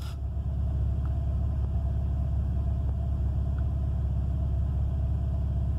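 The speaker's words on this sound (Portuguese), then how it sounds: "para vocês sentirem como tá a vibração do carro com a marcha lenta" A Volkswagen Golf Mk3 engine idles with its idle actuator switched on, giving a steady, deep rumble that stays constant and close, with no one speaking.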